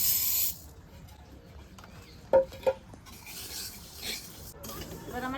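Mung and masoor lentils are stirred in a dry pan without oil, giving a faint, steady scraping and rustle with a couple of sharper clinks near the middle.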